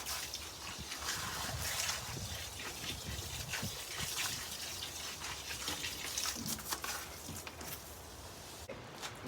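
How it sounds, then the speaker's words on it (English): Freshly covered potato plants in a garden being watered, the hose or can giving a steady gushing spray with splashing that shifts in strength, close by, with no talking. "let's go ahead and water them."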